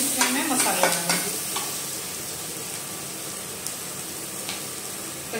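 Vegetables for a sooji and potato breakfast fry in a little oil in a pan, a steady close sizzle with spatula scrapes and stirring clatter early on that then settles into continuous frying with occasional faint clicks, and no talking.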